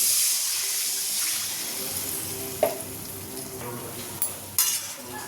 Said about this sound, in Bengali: এবার এর মধ্যে দিয়ে দেবো জল